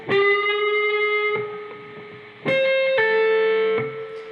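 An electric guitar plays a lick slowly: a few sustained, ringing notes with clear harmonics, each held over a second or more before the next pitch change, close and alone.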